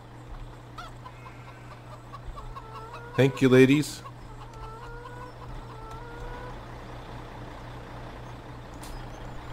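Chickens in the Farming Simulator 17 game let out a short burst of loud clucking in the middle, over a steady low hum, and a person speaks briefly.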